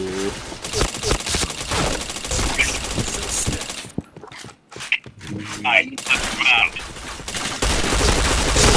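Rapid bursts of automatic gunfire in the shooter game Point Blank, loud and dense, dropping out briefly mid-way before resuming with sharp repeated shots, while a player's voice talks over parts of it.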